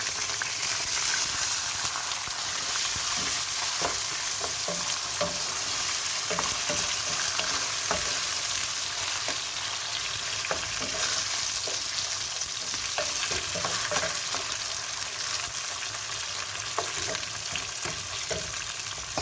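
Rice and vermicelli stir-fried together in a pan give a constant close sizzle with repeated scraping and stirring clicks throughout, no voices.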